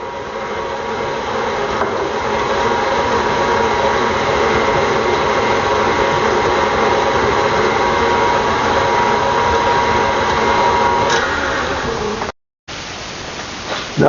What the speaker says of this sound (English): Now with the mixer running slowly, I'm going to blend in my chocolate.